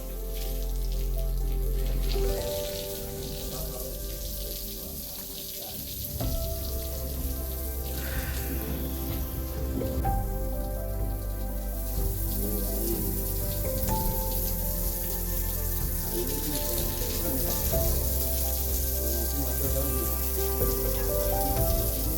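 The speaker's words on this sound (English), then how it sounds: "he's putting the water on. Then another person is sweeping it off." Water sprayed across a house porch during outdoor cleaning, a steady continuous splashing and hissing wash that holds at an even level throughout, close by, with no talk.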